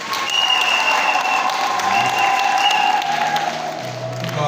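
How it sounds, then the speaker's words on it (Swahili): A church congregation applauds the Isimani parish choir after it sings at Mass, sustained close clapping from a crowd at an even level throughout. "naomba mwapigie makofi."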